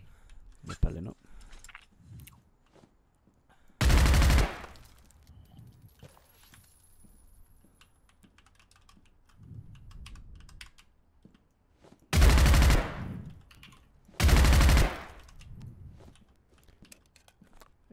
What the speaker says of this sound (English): I love the sound of the bullets hitting the floor as well